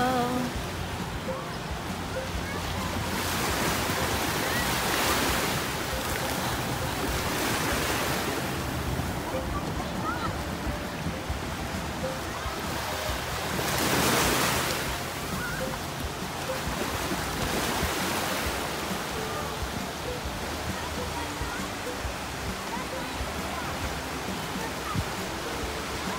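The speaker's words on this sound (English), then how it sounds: "This is our beach here in Jacksonville." Ocean surf rolls onto a beach at Huguenot in Jacksonville, a steady loud wash of breaking waves with swells rising and falling, mixed with wind rumble on the microphone.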